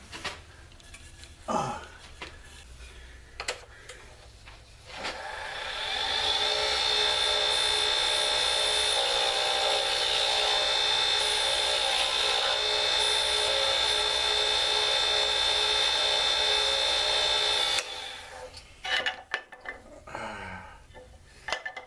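A driftwood pen blank spins on a wood lathe while a skew chisel cuts it, making a loud sustained whine with a steady high tone for about twelve seconds, framed by scattered handling knocks before and after.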